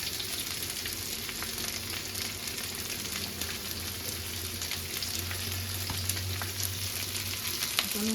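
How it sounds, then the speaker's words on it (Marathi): Onions fry in hot oil in a heated kadhai with a steady, close sizzle. The crackle runs continuously with faint stirring, and no voices are heard. "आता मी हा कांदा चांगला परतवून घेणार आहे. कांदा लाल होईपर्यंत परतवून घ्यायचा."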